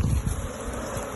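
Honeybees buzz at the hive during a hive check, a dense close hum of many wings that stays steady and fairly loud over a brief moment with no voices.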